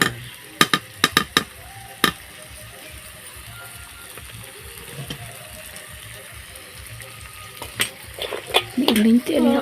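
Food fries and is stirred in a home kitchen pan, a steady close sizzle broken by sharp clinks of a utensil against the pan early on and scraping stirs toward the end.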